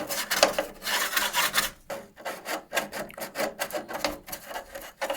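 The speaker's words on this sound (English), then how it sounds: "we put first some resin on the bonding surfaces. For this I take a small brush" A small brush spreads resin onto the small bonding surfaces of a 3D-printed gyroid part. It makes a close, scratchy, bristly rubbing in short repeated strokes with a brief pause midway.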